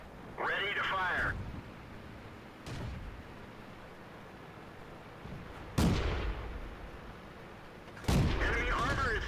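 A Valentine II tank's gun fires in World of Tanks, with several sharp booming shots followed by rumbling tails, close and loud, between stretches of quieter game noise and brief speech.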